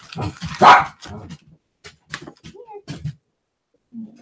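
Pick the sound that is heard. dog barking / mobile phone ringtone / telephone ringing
dog barking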